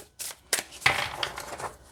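A Green Glyphs tarot deck is shuffled by hand, giving a few quick, close, crisp bursts of cards sliding and riffling, separated by short pauses.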